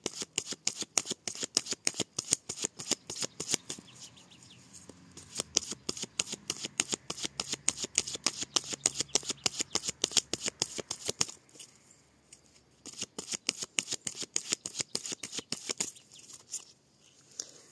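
A tarot deck, the Tarot des Enchanteurs, being shuffled by hand in quick, rhythmic riffles of crisp card flicks, close and clear, with brief pauses between bursts and no talking.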